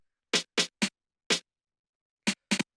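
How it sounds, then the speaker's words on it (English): Two alternating rim shot samples from a drum rack in a Detroit house style beat play as six sharp, dry hits in an uneven pattern, with clean silence between them. "So this just has these 2 rim shots here"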